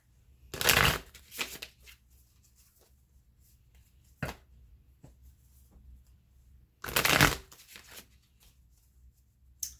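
A deck of Witch's Tarot cards is shuffled in two distinct riffling bursts several seconds apart, close and crisp, with small taps and handling noises between them in an otherwise quiet room.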